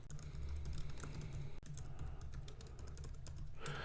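Continuous typing on a computer keyboard, a steady run of quick key clicks held at an even level over low background hum, with no voices.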